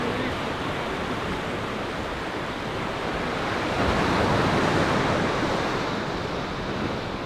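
Sea waves on the Cornwall coast of the Celtic Sea wash in as a loud, continuous broadband roar, swelling slightly midway before settling, with no voices over it.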